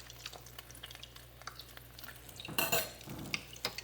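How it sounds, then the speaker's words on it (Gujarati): A single piece of bread pakora frying in hot oil, with a soft, steady bubbling and a brief louder crackling burst partway through, fairly quiet overall with no talking. "મેં અહીંયા 1 પીસ નાખ્યો તેલમાં તળાવવા માટે"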